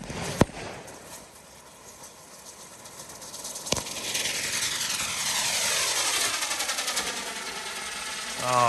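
A firework girandola launches with a sharp bang, then a rising, rushing roar of spinning motors builds and holds loud, with a second pop and a faint voice near the end.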